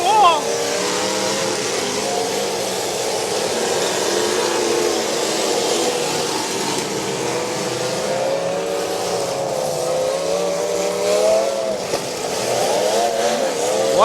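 A demolition derby car engine revs hard and loud at close range, its pitch rising and falling in surges as the car pushes another against a wall, with crowd noise underneath.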